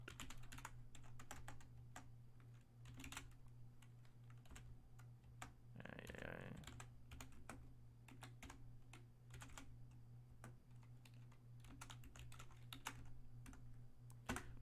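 Rapid, quiet clicking of a new computer keyboard being typed on, with irregular keystrokes over a faint steady hum and a brief soft rustle midway.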